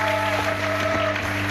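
A congregation at a mothers' and couples' church convention applauds to acclaim the king: a dense, continuous wash of clapping with a steady hum beneath it, and no voices.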